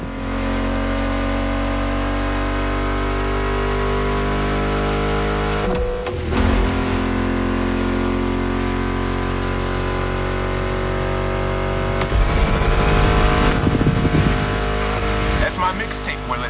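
Steady car engine drone in The Crew Motorfest video game with music over it, shifting pitch as the car accelerates, plus a few abrupt transitions and a louder revving stretch near the end.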